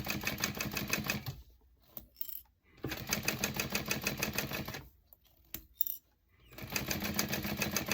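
A 1341 cylinder arm sewing machine runs in rapid mechanical stitching bursts while sewing down a seam allowance on a bag, stopping twice briefly between runs, loud and close with no talking.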